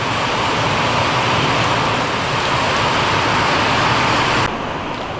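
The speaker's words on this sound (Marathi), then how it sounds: "पावसाचा आवाज बघा केवढा आहे" Heavy rain pours steadily in a dense, loud roar, easing slightly in intensity near the end.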